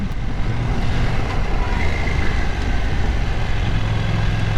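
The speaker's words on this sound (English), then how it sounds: "Just give it a twist and we're gone. There is no hesitating in this bike" A KTM 790 Duke motorcycle engine pulls hard under acceleration, a loud, steady, broadband roar mixed with rushing wind that holds without letting up.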